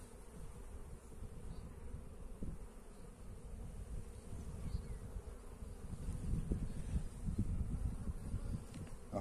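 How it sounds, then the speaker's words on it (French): Honeybees buzzing around an open nucleus hive during smoking and transfer work, a dense, steady low hum of many insects up close that swells slightly toward the end, with no voices. "On voit quand même qu'il y a pas mal d'abeilles dans la ruchette."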